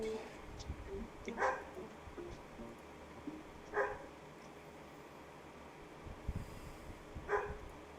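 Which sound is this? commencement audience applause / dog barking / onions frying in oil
dog barking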